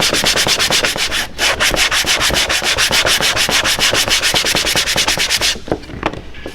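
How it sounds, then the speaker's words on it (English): Steady, rapid rasping strokes of a sanding block rubbing along a leather edge, close and loud, with a brief pause partway and a few softer strokes at the end. "just take your sanding block"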